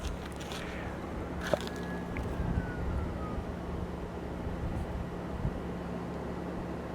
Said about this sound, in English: I hear lots of sirens.